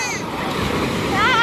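Big ocean waves crash and roar in a dense, steady wash close by, with voices rising over the surf near the end.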